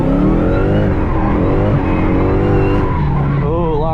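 A drift car's tires squeal and skid loudly as the brakes lock up, the engine droning underneath for several seconds before the screech wavers and fades, heard close with a brief voice over it.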